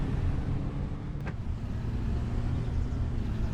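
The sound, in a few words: truck engine running in Farming Simulator 2025 video game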